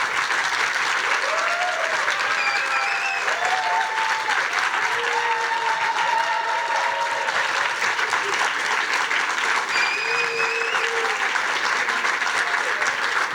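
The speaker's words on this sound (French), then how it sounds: "Je propose que vous les applaudissiez déjà une première fois," Sustained audience applause for contestants at a university thesis-presentation contest, steady and dense throughout with a faint voice or two briefly audible over it.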